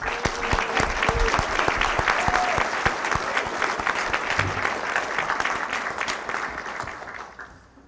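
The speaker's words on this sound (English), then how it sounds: "Let's have one more round of applause for all the graduates." Sustained applause from an audience honoring graduates at a city council meeting, dense steady clapping that holds for several seconds before tapering off at the end.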